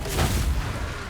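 Explosions and booming fire rumble through a Total War Warhammer 2 battle between Clan Eshin and Vampire Coast, a dense, continuous low roar with overlapping blasts and no clear gaps.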